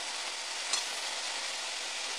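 Cluster beans and potato pieces frying in oil, a steady broadband sizzle with a faint clink of stirring near the start, close and continuous with no talking.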